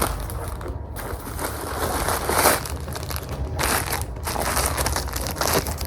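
Plastic zip bags from a parcel being handled and unpacked, giving continuous close crinkling and crushing rustles with brief pauses, loud and unbroken by talk.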